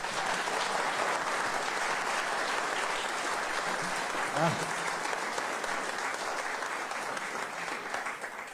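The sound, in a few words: applause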